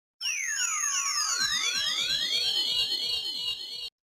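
An LMMS synthesizer atmosphere pad of glassy tones sweeping up and down in crossing glides, held steady for several seconds before cutting off abruptly.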